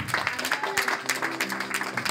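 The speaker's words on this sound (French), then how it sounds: "Applaudissez s'il vous plaît." A church congregation applauds, a steady patter of many hands with a short tonal voice or instrument line held underneath, at moderate level throughout.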